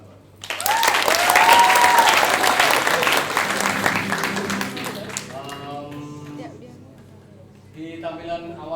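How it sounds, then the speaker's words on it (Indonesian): Applause at a student theatre festival after a high school troupe performs, a strong burst of clapping mixed with cheers that gradually dies away as someone starts talking. "Tepuk tangan buat."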